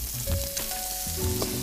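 Herbs frying in olive oil and butter, a dense close sizzle with faint hissing tones and a couple of brief stirring scrapes, steady throughout, no talking.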